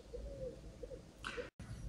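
Soft, low cooing of birds, probably pigeons, in a few repeated rounded calls over a steady background hum.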